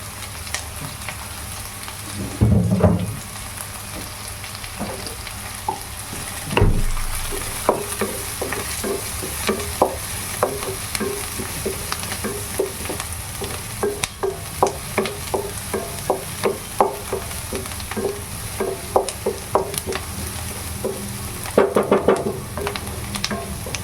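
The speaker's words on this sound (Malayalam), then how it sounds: "സവാള ഒന്ന് വഴണ്ട് വരണം" Onion and curry leaves sauté in a pan with a low, constant sizzle, broken up by many small scraping and clinking stirs from a spoon and a few louder knocks.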